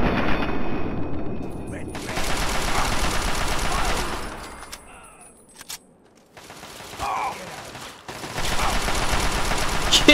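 Rapid bursts of gunfire in Fallout 3 come in dense, loud stretches separated by short quiet gaps, with voices talking in between.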